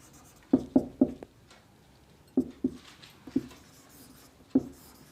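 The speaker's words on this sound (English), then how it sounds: "Now I'll write down multiplication" Chalk or marker taps and strokes on a board, with short sharp knocks in small clusters separated by brief pauses, close and fairly quiet with no talking.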